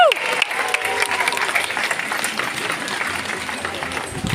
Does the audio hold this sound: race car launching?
no